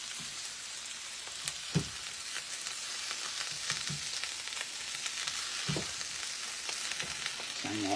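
Spinach is stirred in a hot frying pan, giving a quiet, continuous sizzle with soft scraping and clinks from the stirring spread through it.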